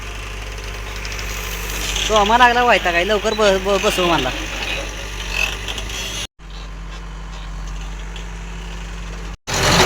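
A farm tractor's engine runs with a steady low rumble throughout, back at work after a broken part was repaired, while someone speaks over it for a few seconds near the start.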